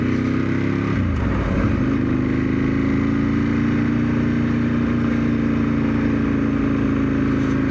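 A Ducati 916 motorcycle engine while riding, kept below 5,000 to 6,000 rpm: loud, steady mid-pitched drone with a brief dip and rise early on, then a sustained even tone with constant wind noise.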